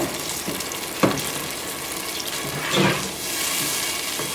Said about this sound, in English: we're going to cook this puree until the juices are pretty much gone